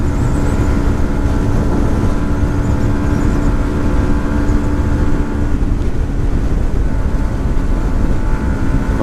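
A 2018 Yamaha MT 125 motorcycle engine pulls steadily in 6th gear, a loud continuous drone with strong low rumble and heavy headwind buffeting throughout, no talk.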